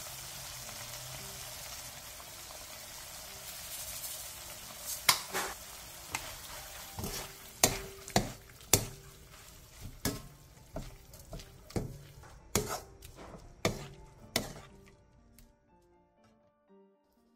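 Seasoned bracken namul with salt, perilla oil and sesame seeds is stirred in a pan, giving soft scraping and a series of sharp clicks and taps of the utensil against the pan, close and fairly quiet.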